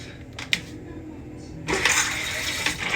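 A Japanese toilet in Osaka flushes after its button is pressed, with a few small clicks and then a sudden rushing hiss of water that keeps going to the end.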